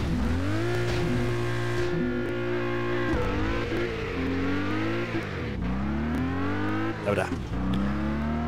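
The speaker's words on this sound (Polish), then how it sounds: "Ogarnąłem startowe buksowanie kół." Car wheelspin at the race start in Test Drive Unlimited 2, a loud steady engine drone with rising and falling revs under a voice.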